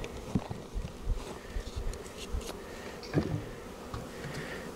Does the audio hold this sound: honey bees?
yes